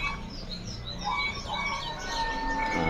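Cucak hijau songbirds at a bird seller's shop chirp and whistle in overlapping bright calls, fairly close, against a busy background murmur.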